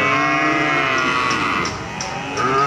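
Cattle low and moo continuously at a cattle market in Grabag, Magelang, where Limousin calves are sold. Several overlapping calls form a dense, steady herd sound, with no talk.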